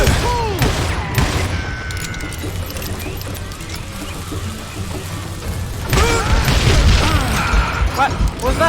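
Repeated bursts of revolver gunfire in the Western shooter Call of Juarez: Gunslinger crack loudly over a busy battle din, with heavier volleys at the start and again toward the end, and someone shouting over them.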